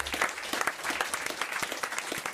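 A radio studio audience applauds a guest, a short burst of lively, close clapping with individual hand claps standing out, loud and fairly dense throughout.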